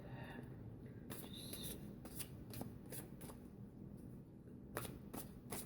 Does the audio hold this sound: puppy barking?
no